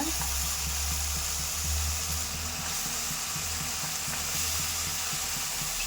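Broad beans (avarakkai) with green chillies fry in a pan, a dense continuous sizzle close up with a low steady hum beneath, no talking.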